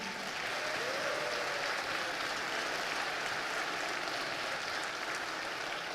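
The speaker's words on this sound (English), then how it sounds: "Let's give yourselves a round of applause again." A town hall audience with Reverend Senator Raphael Warnock gives a round of applause, a dense, even roar of clapping that holds steady for six seconds at moderate distance.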